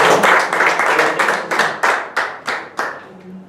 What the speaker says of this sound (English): A big round of applause to Toastmaster.